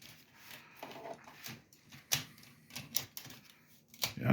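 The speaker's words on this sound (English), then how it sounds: "He's going to be demonstrating how to change a ribbon on a Smith Corona typewriter" Changing the ribbon on a Smith Corona typewriter produces quiet, scattered mechanical clicks, clacks and plastic handling noises, close by, with a slightly louder knock near the end.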